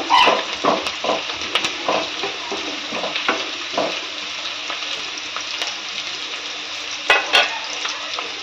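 Onions and whole spices frying and being stirred in a pan, a steady loud sizzle broken by repeated scraping stirs, with brief louder clatters near the end and no talking.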